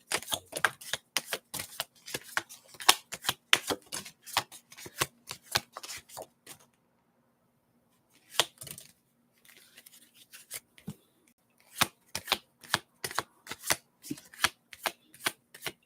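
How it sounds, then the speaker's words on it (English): A deck of tarot-style reading cards is shuffled in rapid riffling bursts of crisp close snaps, pausing briefly near the middle before the shuffling resumes as cards are handled and pulled; no talking. "So let's pull a couple cards here."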